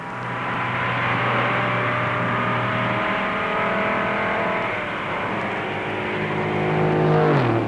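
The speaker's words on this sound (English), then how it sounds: "Richard drops into a corner wide open and turns the fastest laps ever run at Daytona in a stock car" Stock cars race at Daytona, their engines roaring loud and continuous at full throttle. The pitch shifts as the cars pass by and hold speed, and no voices are heard.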